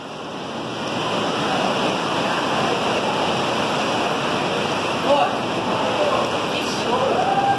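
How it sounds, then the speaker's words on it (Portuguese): Seawater surges and rushes into a grotto on Ilha do Mel, Paraná, a loud continuous roar of churning water with wind buffeting the microphone. "Essa água invade tudo aqui, hein?"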